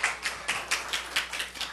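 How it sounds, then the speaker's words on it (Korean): A church congregation at a Korean morning worship service claps in unison, about eight even, moderately paced claps of medium loudness with no talking. "우리 하나님께 박수 올려드려요"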